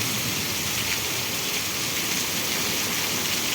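Heavy rain pours down in Vejalka village, Ranpur, Botad district, a dense, loud, unbroken hiss of drops on surfaces with no voices.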